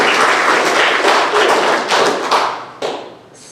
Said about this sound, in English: So give these guys a big round of applause as managers.